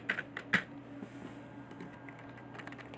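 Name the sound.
typing on a computer keyboard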